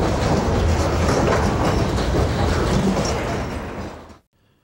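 A CSX freight train, number 0802, rumbles heavily along the line in Florida's Bone Valley phosphate district in 1995, a loud steady roar with wheel clatter that cuts off abruptly near the end.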